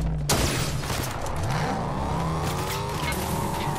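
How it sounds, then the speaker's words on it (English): A car engine in the video game Fortnite roars steadily with rising and falling revs and a tire squeal, loud and continuous throughout. "There's a car coming."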